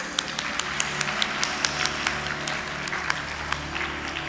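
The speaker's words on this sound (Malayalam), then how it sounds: "Very good. കൈയടിച്ചേ." Children clapping together at a yoga camp in Kottayam, a dense, even applause with regular sharper claps standing out, sustained for several seconds and close by.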